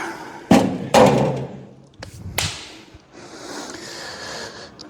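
A Ford Capri door skin is set down in a workshop, giving two sharp metallic thuds close together, then a lighter clatter and knock, followed by faint rustling handling noise.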